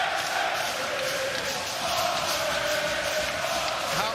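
Large wrestling arena crowd at an AEW Dynamite event, a steady dense roar of cheering and shouting voices that stays loud and continuous throughout without a break.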